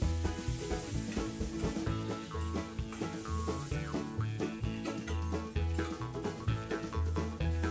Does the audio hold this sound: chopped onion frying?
yes